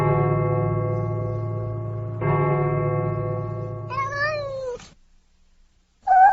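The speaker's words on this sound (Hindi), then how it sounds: "बिल्ली जैसी चीख" A cat gives a drawn-out, rising and falling yowl that swells into a shrill scream, loud and close, then breaks off into silence before a short sharp cry returns at the very end.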